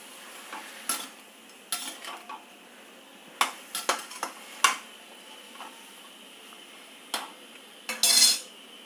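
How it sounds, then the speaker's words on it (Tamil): Food sautéing steadily in a pan over medium-high heat, broken by sharp clinks and scrapes of a utensil stirring, several quick taps, and a louder scraping burst near the end. "கொஞ்சம் மீடியம் ஹையில் வச்சுட்டு அப்படியே வதக்கி விட்டுடலாம்"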